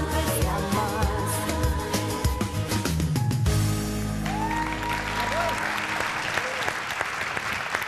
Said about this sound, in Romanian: îi aplaudați, stați că e de-a noastră!